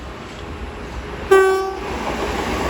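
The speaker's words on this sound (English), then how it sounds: "As also passing will be a South Eastern pair of 465s going to London Charing Cross." Southeastern Class 465 electric train pair passing through New Cross station on the South Eastern Main Line, a loud horn blast that fades over a background of rail noise.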